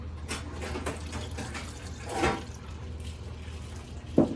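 Liquid poured into a jug while making Cap'n Crunch crunch berry wine, a soft, steady watery trickle running for a few seconds, with a brief louder splash near the end.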